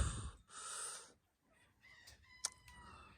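Hen's agitated clucking and squawking close by in a backyard coop under construction, a few drawn-out calls followed by short sharp clucks, with no one speaking.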